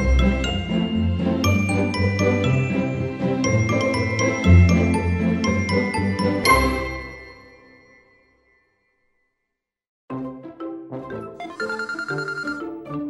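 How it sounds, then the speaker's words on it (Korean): A bright melodic ringtone chimes loudly, falls silent for a couple of seconds, then starts up again. "아, 여친한테 전화 왔다."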